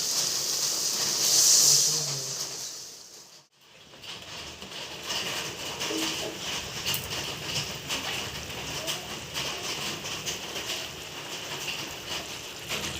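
Water poured into a hot pan of mustard fish curry gives a sharp burst of hiss, followed by a long, even simmering sizzle heard up close.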